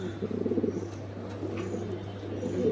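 Yellow Lahori pigeons coo softly nearby in a loft, low throaty calls repeating over a steady background hum.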